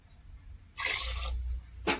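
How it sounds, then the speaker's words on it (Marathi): Water is poured from a bowl onto spiced rice in a pot, a brief splashing gush followed by a short second splash, close and clear with no talking. "मी आता दोन वाटे पाणी टाकते"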